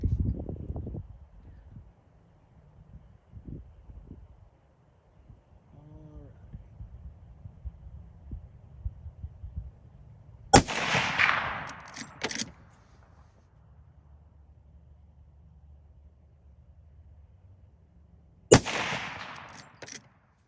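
A Rossi R95 lever-action rifle in 30-30 fires two sharp, loud shots at a range, about eight seconds apart, each with a brief ringing tail, preceded by quiet handling and low background hum.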